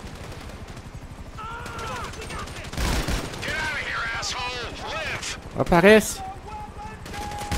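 Gunfire rattles in the video game GTA V as sharp bursts and single shots amid game effects, while a player talks over the action.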